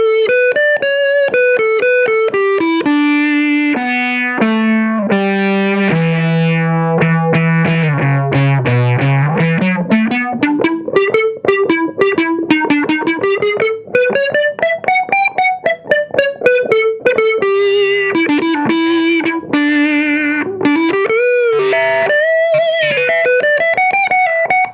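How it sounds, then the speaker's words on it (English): Guitar played through a Crowther Prunes and Custard pedal with the tone knob turned fully down, giving a filtery, analog-synth-like tone over a continuous melodic phrase of sliding and picked notes, loud and steady with no talking. "if you dial your tone knob way back, so it's on 0 now, you get some really filtery analog synth sounds"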